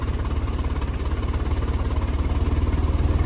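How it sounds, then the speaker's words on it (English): A Model T Ford engine running with the timing lever pulled, a close, steady, rhythmic low chugging pulse that stays even and smooth throughout, with no talk. "How the engine smooths right out."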